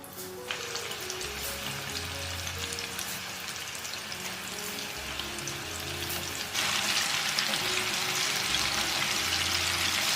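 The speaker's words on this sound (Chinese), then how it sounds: "油温6成热的时候放下去炸" Chunks of pork neck coated in egg and starch deep-fry in hot oil, giving a steady crackling sizzle that grows louder and brighter partway through.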